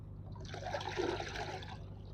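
Cloth being soaked in water at a school fire and safety training session, a soft, faint trickling and sloshing of liquid lasting a couple of seconds.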